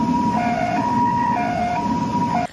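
An ambulance siren wails in a steady two-tone alternation while arriving at a motorcycle crash scene on a city road, loud and close over faint traffic rumble.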